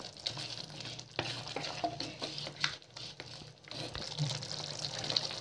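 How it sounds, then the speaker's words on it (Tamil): Chicken curry being stirred in a clay pot after salt goes in, a village-style spicy chicken gravy: steady scraping and stirring close up with a soft simmering hiss underneath, and a few light knocks of the spoon against the pot. "உப்பு சேர்த்துட்டு நல்லா கலந்து விடுங்க."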